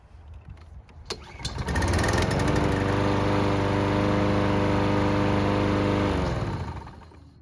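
A small pull-start engine, already hot after running several minutes, catches after a short pull and runs at a loud, steady drone for a few seconds before shutting off.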